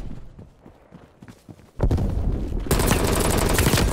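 Gunfire in the video game Call of Duty: Black Ops Cold War: quiet scattered shots give way to a sudden loud, dense burst of automatic fire that continues without pause to the end.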